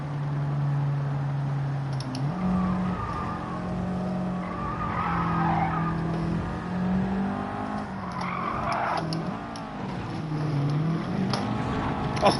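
Car skidding under handbrake in the racing game Gran Turismo 7, a steady engine drone with rising tyre scrub and squeal swells through the middle, continuous and fairly loud with no talk.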